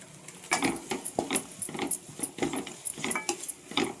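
A spoon scrapes and clinks against a pan in short rhythmic strokes as chicken is stirred with cumin, chicken masala and coriander powder.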